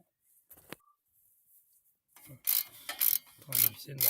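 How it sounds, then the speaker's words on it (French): A ratchet unscrews a T55 caliper bracket bolt on a Peugeot 508, starting with a few quiet isolated ticks and then breaking into loud, close, rapid clicking strokes during the final half. "on va desserrer les deux supports d'étrier. Donc ça c'est le T55 en haut là, et en bas ici. Voilà, je dévisse ça toujours"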